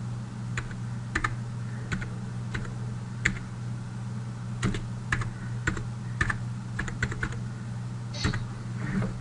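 Someone types a name on a computer keyboard while filling out a form, producing a steady run of close, light key clicks with irregular rhythm and no speech over them.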